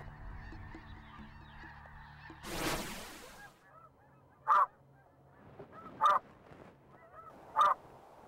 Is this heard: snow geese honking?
yes